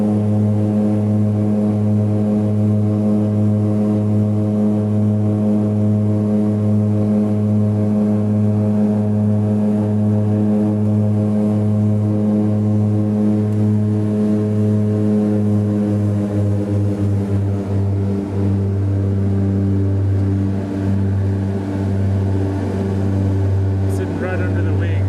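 Small passenger plane taking off in Nepal, its engine droning loudly and steadily from a seat beside it, with a deep pulsing hum whose tones shift and rise partway through as power builds.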